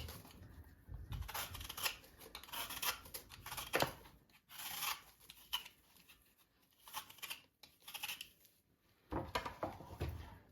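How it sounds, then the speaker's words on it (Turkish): A quince being peeled with a hand peeler, giving soft repeated scraping and rasping strokes in irregular bursts, close and fairly quiet, with no talking. "Şöyle soy soyumla rahatlıkla soyuyorum. Çok güzel soyuluyor."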